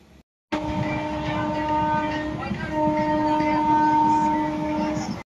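A long, steady blast of a train horn rings out over the rumble of a passenger train in India, loud and continuous for several seconds.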